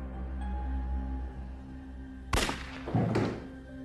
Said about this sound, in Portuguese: Um tiro é ouvido na casa de Forster.